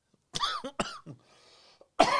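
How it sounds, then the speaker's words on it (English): A man coughs hard into a close microphone, two loud harsh bursts followed by a faint breath and one more loud cough at the end, with no other sound. "I coughed right in the mic."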